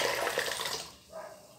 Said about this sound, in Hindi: चाय के पानी ले रहे हैं,